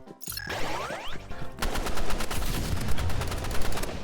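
Pistol fire in the Roblox Rivals shooter game: a rapid string of sharp, loud shots with clicky game effects, after a brief rising electronic tone at the start.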